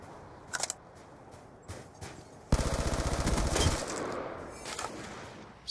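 Gunfire in the video game Call of Duty Black Ops 2: a few isolated shots early on, then a loud sustained burst of rapid automatic fire that fades into quieter scattered shooting.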